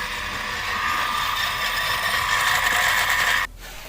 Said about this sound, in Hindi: फुल आरपीएम में हम लोग का मोटर चल रहा है यहाँ पर।